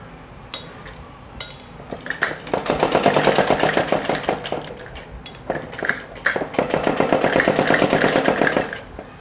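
A sewing machine stitches cloth for a girl's suit, with a rapid mechanical rattling in several sustained bursts separated by short pauses and clicks, loud and close.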